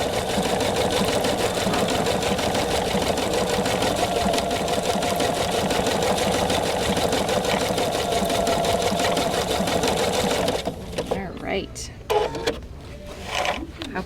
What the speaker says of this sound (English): I'm going to go ahead and begin stitching here.